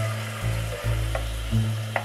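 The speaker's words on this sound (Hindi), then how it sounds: "थोड़ा भूनेंगे।" Garlic and ginger paste frying in hot oil with white cumin, a steady close sizzle with a few stirring scrapes and clinks of the spoon against the pan, no talking.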